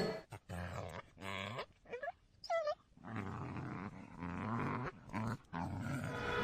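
A dog growls and whimpers indoors in a Bangla TV drama scene, close by and fairly quiet. Whiny cries rise and fall between low, rough growling stretches.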